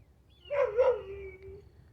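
A single drawn-out, high-pitched dog whine, rising then trailing off, faint and somewhat distant over a low background hum.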